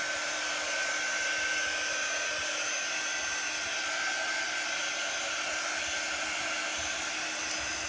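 Hair dryer blowing steadily while drying a craft piece, a loud continuous airy whoosh with a constant whine that runs unchanged the whole time, no speech.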